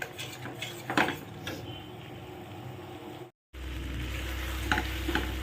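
Spice paste frying in hot oil for a potato and river fish dish, with a steady sizzle and occasional scraping stirs of a spoon against the pan, close and clear with no talking.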